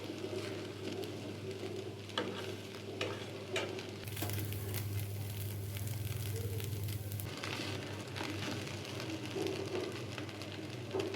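Semai vermicelli frying in a pan while a fork tosses it loose, giving a steady close sizzle with scraping stirs that swells louder for a few seconds midway, no voices.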